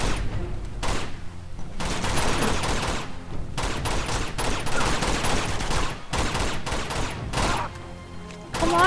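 Dense, loud bursts of automatic gunfire and rapid shots fill the scene in Uncharted 2, with brief gaps between volleys and a continuous battle din throughout.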